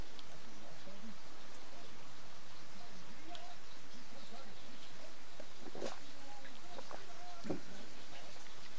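Steady rainstorm in RimWorld, a soft continuous hiss of falling rain with faint scattered patters, even and moderately quiet throughout.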